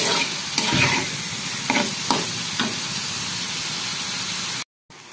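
Taro stolons with shrimp and coconut paste fry and get stirred in a pan over a gas flame, giving a steady close sizzle broken by a few scraping stir strokes, then a brief dropout near the end.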